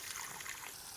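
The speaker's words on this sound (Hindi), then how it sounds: "Add some water." Water is poured into a matar paneer curry in a pan, a brief, soft, quiet trickle of liquid.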